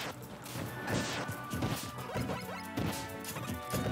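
Forward smash attacks from Steve in Super Smash Bros. Ultimate land as a run of heavy crashing impacts, dense and loud throughout, over busy game sound and music.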